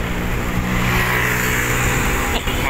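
A racer's vehicle passes on a dark road with a steady, loud engine drone and road rumble throughout, plus a brief whoosh near the end.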